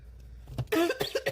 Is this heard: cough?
yes